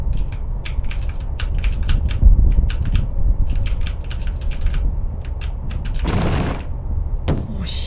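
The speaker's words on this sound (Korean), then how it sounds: "저 엔터 누르면서 갈기면서 가고 있어가지고" An Enter key on a computer keyboard is mashed over and over during an Ao Oni horror game session, with rapid, uneven, close clacking presses running throughout and a brief heavier rustle near the end.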